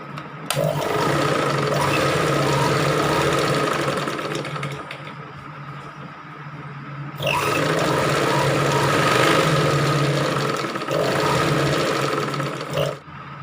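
A domestic sewing machine stitches pieces of waste cloth together in close, loud, whirring bursts. A short pause falls midway, then the needle drive starts again, and nobody speaks.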